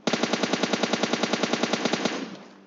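Rapid automatic gunfire from a weapon in PUBG Mobile Lite, a steady burst of about twenty evenly spaced loud shots over two seconds, then tailing off, with no talk.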